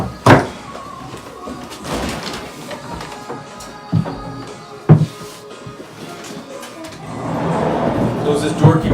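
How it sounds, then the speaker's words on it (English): Barn door swinging shut with a few sharp thuds and clanks in a cow milking barn, with rattling metal and shuffling noises in between and a person talking nearby. "Close this door, keep the chickens out."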